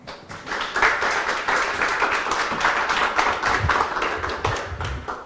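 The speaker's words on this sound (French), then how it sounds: "Merci d'applaudir maintenant." A conference audience at a humanist talk in Montreal applauds steadily for about five seconds, a dense, even wash of many hands clapping at moderate loudness with no speech over it.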